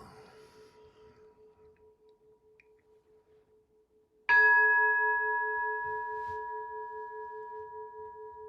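An ancient temple bell, struck once midway during a meditation session, rings out loud and clear after a faint lingering hum, its rich tone slowly fading over several seconds with no talking.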